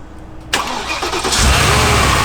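A Porsche Cayenne Turbo S, rebuilt after a crash, cranks and starts. A short whirring crank is followed by the engine catching and settling into a loud, close idle rumble, with no voices.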